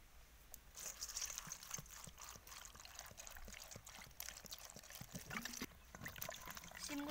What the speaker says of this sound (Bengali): শিমগুলো আমি ধুয়ে তুলে নেব।